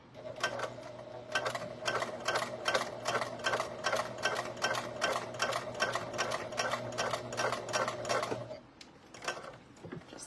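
A sewing machine runs in fast bursts of rapid mechanical stitching, stitching webbing for keychains, with a steady motor hum under the clatter for about eight seconds before stopping.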